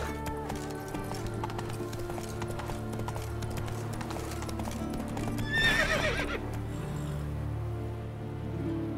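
Roach, a horse in The Witcher 3, gallops with steady clip-clop hoofbeats throughout, and a loud neigh breaks out near the middle before the hooves carry on.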